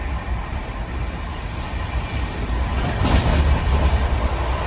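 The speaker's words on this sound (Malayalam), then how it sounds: "അതിലൂടെ ഒരു ട്രെയിൻ പോകുന്നത് കാണാം." SMVT Bengaluru–Danapur Sanghamitra Express passing on a neighbouring track, a steady broad rumble and rush of wheels on rails that swells slightly midway, heard continuously from inside a moving train with no talk.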